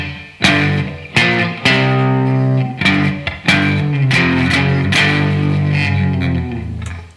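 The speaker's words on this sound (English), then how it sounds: "And that sustain is held by distortion mainly. Just keep that going on, a lot of distortion." Heavily distorted electric guitar plays the Mission Impossible theme, struck notes and power chords ringing with long, thick sustain, loud and close with no talking.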